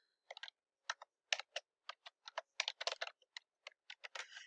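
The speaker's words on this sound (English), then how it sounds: "You'll type that in." Keys clatter on a computer keyboard as text is entered, a quick irregular run of crisp close clicks in short bursts with silent gaps, ending in a faster flurry.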